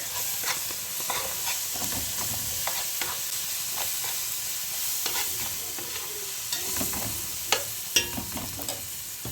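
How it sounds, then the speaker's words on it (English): Meat and garlic fry in a pan for a mutton stew, a steady close sizzle with scattered crackles and light stirring scrapes throughout, no talk. "So guys, I'll let my meat fry."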